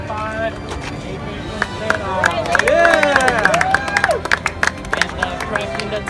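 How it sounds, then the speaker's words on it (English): Spectators at a cross-country race finish clap and cheer for a runner crossing the line, a lively crowd roar swelling in the middle with whoops and a voice calling out over the top. "Give it a nice little round of applause for our fourth man in the top"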